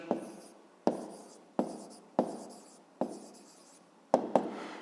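A pencil scratches across paper while an answer is written out, in repeated bursts of close, soft scraping strokes with short pauses between them, no voices.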